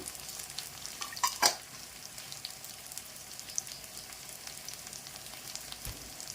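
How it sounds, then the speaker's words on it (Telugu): Ivy gourd pieces sizzle softly in a pan for sambar rice, with a few quick clinks of a stirring spoon early on over a low, steady frying hiss. "ఇప్పుడు దొండకాయ ముక్కలు వేసేద్దాము."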